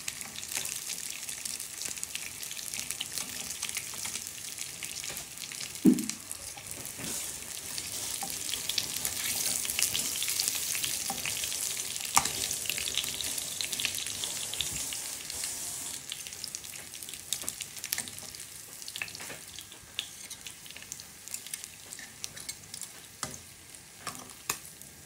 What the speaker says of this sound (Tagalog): Ayan na po guys ang ating pinritong lapo-lapo.